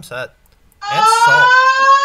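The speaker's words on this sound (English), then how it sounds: "it is a school fire alarm." A school fire alarm sounds loud and steady right after a man swears and asks a question, its harsh buzzing tone droning continuously while another voice briefly cuts in.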